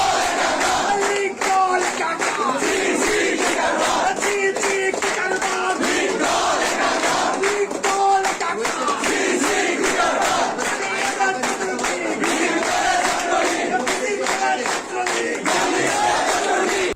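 A large crowd of student activists at Rajshahi University chanting slogans in unison, loud and sustained with rhythmic shouted calls repeating throughout.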